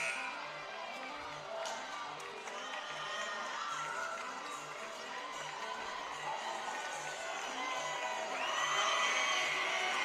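A home crowd at a women's college volleyball championship in Nininger Hall cheers and whoops steadily, with shouting and a rhythmic low stomping or drumming pulse, swelling louder near the end.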